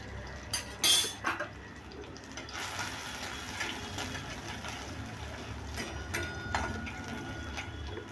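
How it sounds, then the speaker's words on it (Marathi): Ginger garlic chili paste hitting hot oil in a kadhai gives a steady, close sizzle that runs throughout, with a few brief clinks of utensils near the start. "कढईत तेल गरम झालं आहे। आता आलं लसूण मिरचीची पेस्ट टाकायची आहे।"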